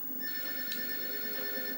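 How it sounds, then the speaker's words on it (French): Landline telephone ringing in a room, a steady electronic ring held faintly in the background with no talk over it. "Mon téléphone fixe il sonne"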